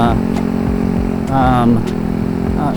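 A Venom motorcycle engine hums steadily during a test ride, its mid-pitched drone rising briefly in revs, with someone talking over it throughout.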